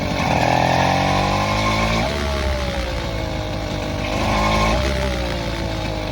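A bicycle fitted with a small two-stroke engine running on a footpath, a loud buzzing rasp close by that rises and falls in pitch as power is added and eased off, with no speech.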